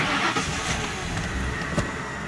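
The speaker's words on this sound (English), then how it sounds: "want to see if the Lincoln will start?" A Lincoln car's engine turns over and starts after sitting for half an hour, a brief close-up burst of cranking and catching with a mid-range rumble.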